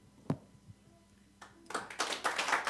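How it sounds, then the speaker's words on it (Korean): Applause breaks out from a church congregation at an elder ordination ceremony, beginning with a few scattered claps and swelling into dense, sustained clapping across the room. "다시 한번 박수해 주시고"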